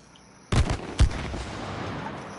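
Gunfire in a video game: two loud sharp bursts of shots about half a second apart, the first a short volley and the second a single heavy blast, fading into a lingering rumble with no talk.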